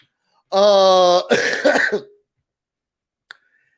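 A voice imitates a cough: a drawn-out, raspy throat-clearing hack followed by a rougher burst, then silence and a tiny click near the end.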